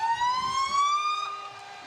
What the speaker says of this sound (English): Sirens are a good thing to hear today as our services are in the parade